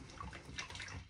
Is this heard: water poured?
yes